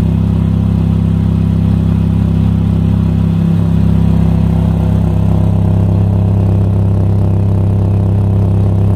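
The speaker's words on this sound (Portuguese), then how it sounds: "E esse é o barulho aí da descarga." A Chevrolet Corsa idles through a stainless Fortuna motorcycle muffler. The low, even exhaust rumble is loud and close and holds steady, with a brief extra thump partway through.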